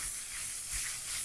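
Butter and shiitake mushrooms, water-blanched, dry frying in a pan give a steady, bright sizzling hiss that swells slightly and fades without breaks.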